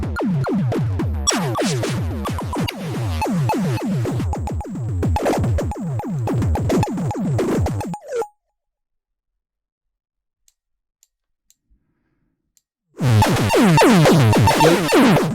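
Rapid, clattering metallic pulses with pitched resonant sweeps from the Combuster resonator effect on iPad at high feedback pour out in dense bursts, then silence for several seconds before the ringing chatter returns loudly.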